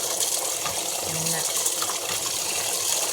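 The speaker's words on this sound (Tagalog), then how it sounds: "Sige ulan diri guys, kusog kay ulan diri guys as in" Steady, dense rush of heavy rain pouring down, a constant loud hiss of water with no pauses.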